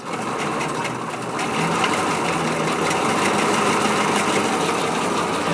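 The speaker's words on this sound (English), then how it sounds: "And then the engine's going to run." A steady mechanical chugging and hissing from the running steam engine of a Locomobile surrey, nearby and continuous, growing slightly louder after the first second.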